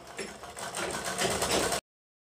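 Sewing machine running a continuous stitch along the side slit of a kurti, a steady close mechanical whir lasting under two seconds before cutting off abruptly.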